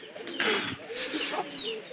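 Pigeons being given their feed coo softly over two seconds in a few overlapping, rolling calls, fairly near and quiet.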